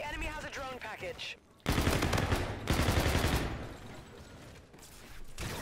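Rapid automatic fire from a Karma 45 in the shooter game Infinite Warfare comes in dense bursts under someone talking and exclaiming, with a short gap between volleys.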